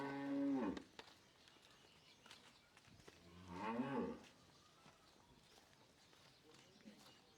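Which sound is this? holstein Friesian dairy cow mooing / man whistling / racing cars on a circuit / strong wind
holstein Friesian dairy cow mooing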